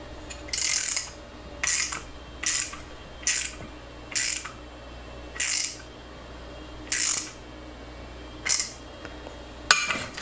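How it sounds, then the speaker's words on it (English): A half-inch ratchet wrench clicks through about ten short, crisp bursts of ratcheting, each separated by a brief pause, close and clear with no talking. "If I was smart, I'd grab the 1/2-inch ratchet wrench."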